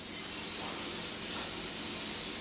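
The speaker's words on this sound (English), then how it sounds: "I'll spray the pan before I saute the beef and the pork." Cooking spray hisses from a can onto a pan before beef and pork are sauteed, a steady, close airy spray that runs on without a break for a couple of seconds.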